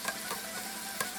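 Spoon stirring chili in a pot in a home kitchen, soft scraping and a few light clinks against the pot over a faint sizzling background, quiet and close.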